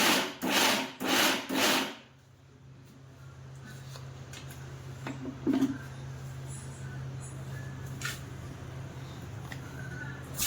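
A mixer grinder on pulse mode churns anarse dough in three quick, loud bursts at the start, followed by quiet room noise with a few faint knocks.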